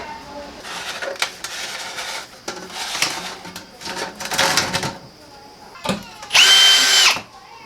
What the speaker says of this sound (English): We're going to put the cover on top of it here, and we're going to screw it to the wall.